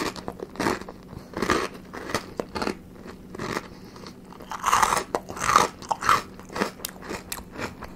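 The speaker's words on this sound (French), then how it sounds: "Putain, le pain est croustillant." Repeated crisp crunching bites into oven-fresh toasted bread with roasted goat camembert, sharp crackly bursts close to the mic with chewing between them, no talking.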